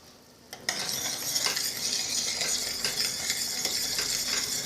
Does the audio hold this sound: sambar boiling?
yes